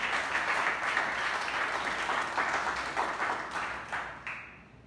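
A church congregation claps for Jesus at a Christmas Day service, a dense wash of applause that tapers off toward the end.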